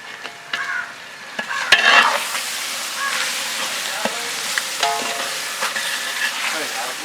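Ginger garlic paste sizzles and crackles steadily in a hot pan, with a spoon scraping and stirring through it at close range.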